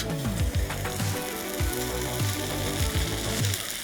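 Steady sizzling crackle fills the clip, loud and close, with intermittent low clunks and scrapes of utensils on a pan, cooking in a transparent tent.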